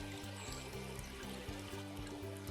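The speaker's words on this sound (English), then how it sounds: "little tiny streams all over the place" Small streams trickling among rocky potholes in a coastal canyon on a backpacking trail, a faint continuous babbling under a low steady hum.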